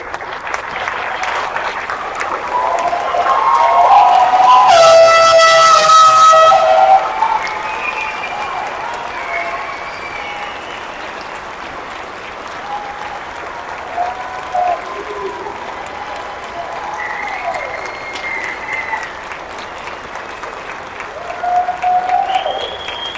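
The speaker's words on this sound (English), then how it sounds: "please turn, face the audience, and receive your applause" A large audience at a National American University graduation ceremony claps for the new graduates in a long, sustained ovation that swells to its loudest early, then settles into steadier clapping with scattered cheers and whoops.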